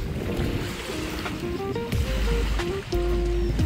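Sea waves washing onto a clean, calm beach shore at Mulanay, Quezon, a steady rushing surf with gusts of wind noise buffeting the microphone and no talk over it.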